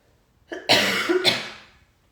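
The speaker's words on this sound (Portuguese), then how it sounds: "porque eu tô tossindo" A short burst of harsh coughing, a couple of loud hacks close to the microphone, fading out afterward.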